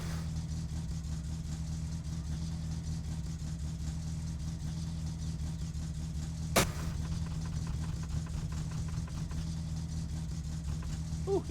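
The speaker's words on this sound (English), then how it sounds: "Fuel in it starts right up." A car engine in the My Summer Car video game runs at a steady idle after starting, a constant low hum throughout with one brief sharp click partway through.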